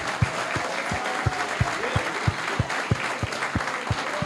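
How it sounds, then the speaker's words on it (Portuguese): Church congregation giving a round of applause, with steady rhythmic clapping in unison, about three claps per second, loud and close throughout. "vamos dar salva de palmas."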